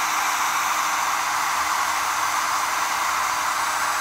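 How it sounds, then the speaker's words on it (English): A hair dryer blows hot air onto colour-changing paint, a steady loud whooshing hiss that holds unchanged throughout with no voices. "we're going to turn the hairdryer on him and see all the amazing colours that start to"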